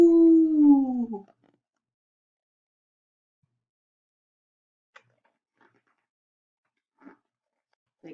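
A coyote lets out a single drawn-out howling yelp with falling pitch, loud and close for about a second, followed by silence broken only by a few faint, brief clicks.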